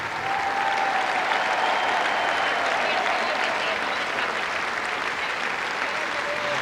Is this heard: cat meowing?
no